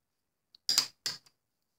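Markers drag across paper in two brief scratchy strokes, close and quiet, with a tiny tap before and after in otherwise silent surroundings.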